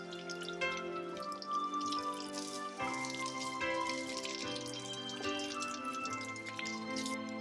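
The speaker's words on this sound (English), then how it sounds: "First, I'll rinse and scrub the potatoes and cut off any black pieces or bits" Faint running water splashes and drips in a sink over a few seconds as potatoes are rinsed and scrubbed, soft and intermittent, with no voices.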